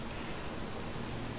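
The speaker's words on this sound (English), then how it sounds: "it's pouring down rain" Heavy rain pours down outdoors beside a bush near a railway line, a dense, even hiss of drops that holds steady and fairly faint with no voices.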